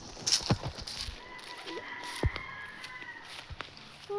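Chickens cluck and a rooster crows faintly at a chicken coop, heard from a distance with a few scattered footstep-like knocks and little else.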